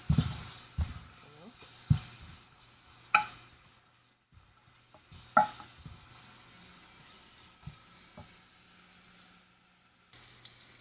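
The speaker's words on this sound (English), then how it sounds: "Okay, you can see the onion is already cooking." Onions frying in a pot with beans and coconut cooking nearby give a soft, steady sizzle, broken by several sharp clinks and scrapes of stirring and utensils.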